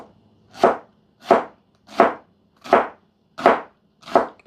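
A knife chops shallot on a cutting board in six evenly spaced, crisp thuds about two-thirds of a second apart, close and clear with no talking.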